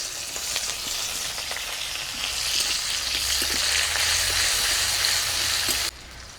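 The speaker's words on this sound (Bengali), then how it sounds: "ফোড়নটা ভাজা হয়ে গেছে, দিয়ে দিব পেঁয়াজ কুচি," Chopped onion hitting hot white oil with cumin seeds in a kadai, a loud steady sizzle and crackle that swells as the onion goes in and runs on with stirring scrapes.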